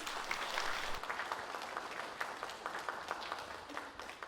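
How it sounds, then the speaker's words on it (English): Audience applause for panel speakers at a San Diego Comic-Con 2024 session, a steady, fairly faint wash of clapping lasting the whole stretch with no talk over it. "could I get another round of applause for our wonderful speakers?"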